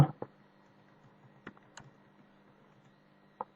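Sparse keystrokes on a computer keyboard while entering values into an Excel spreadsheet, a few isolated clicks close by in a quiet room with a faint steady hum.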